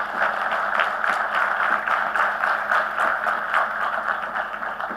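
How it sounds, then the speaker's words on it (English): Sustained applause from a large convocation audience honoring the graduates' parents, many hands clapping steadily at moderate distance, an even wash of claps lasting the whole stretch. "can I ask all of you to have a huge round of applause for your parents?"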